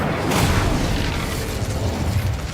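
An Incendio fire spell bursts out in Hogwarts Legacy, a loud roaring whoosh of flame with a deep boom that flares early and then holds as a dense crackling rush to the end.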